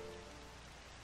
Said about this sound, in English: You all still showed up even in this rain.